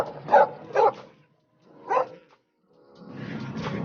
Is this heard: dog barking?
yes